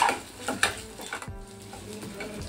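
A spoon scrapes and stirs turmeric, chili and coriander powder in a hot pan for a Maharashtrian patwadi rassa curry, with soft clinks against the metal and a faint sizzle underneath, close and fairly quiet.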